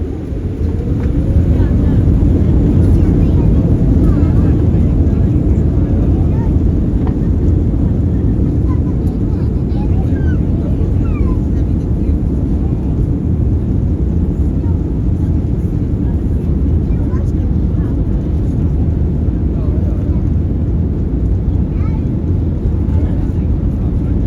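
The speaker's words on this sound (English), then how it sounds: "Here's my best attempt at capturing the takeoff." Inside a TUI Boeing 787 Dreamliner cabin, the takeoff roll makes a loud, steady engine roar and low rumble that holds for the whole stretch without a break.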